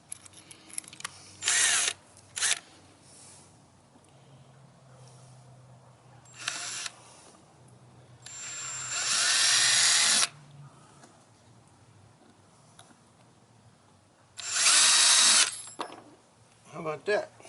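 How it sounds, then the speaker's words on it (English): Several short bursts of a power drill driving self-feeding bits into material during a fuel gauge and sending unit installation, loud and close, with quiet gaps between runs and a longer spin near the end. "Self-following drill bits."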